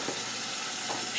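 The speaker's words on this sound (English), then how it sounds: "Flip the whole thing right over. Sear the other side." Steak searing in a hot pan, a steady close sizzle and hiss with no pauses and no voices.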